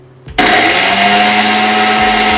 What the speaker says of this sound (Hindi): ये मैंने स्वीट कॉर्न को मिक्सी में पीस लिया है